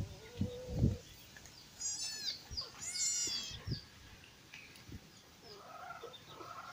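A young cat gives a few high, wavering meows, fairly close, between soft thumps and handling noises in a quiet room.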